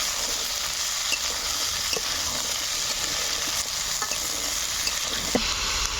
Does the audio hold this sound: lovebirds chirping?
no